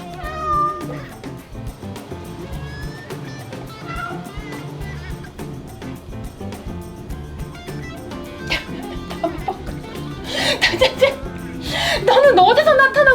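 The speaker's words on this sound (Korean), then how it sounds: "너는 어디서 나타난 고양이야?" A cat meows a few times over a busy musical background, with voices chattering around it.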